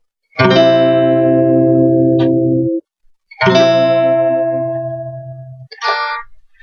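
Two ringing guitar chords, each strummed once and left to sustain for a couple of seconds, followed by a brief muted strum, close and clear.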